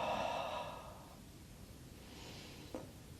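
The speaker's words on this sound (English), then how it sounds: "and then exhale" A breathy exhale during a pranayama breathing exercise, close and soft, fading into quiet room tone, with a small click near the end.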